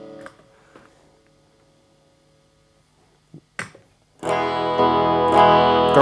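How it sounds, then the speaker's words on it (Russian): Electric guitar through a distortion effect: sparse, quiet plucked notes with brief clicks, then a loud, dense, sustained distorted chord that fills the final two seconds. "Дисторшн"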